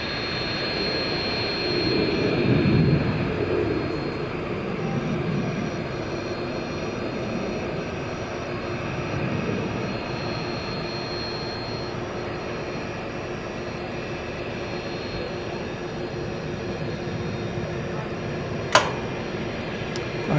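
Iberia passenger jet at night at DFW Airport, a continuous distant jet engine roar that swells gently and fades, with a brief sharp click near the end.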